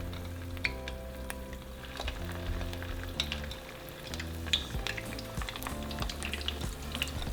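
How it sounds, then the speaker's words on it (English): Cheesy potato and cheese tortitas fry in hot oil with a steady, close crackling sizzle and occasional louder pops over a low hum, no one talking. "once the oil is ready, we're going to add our tortitas into the oil"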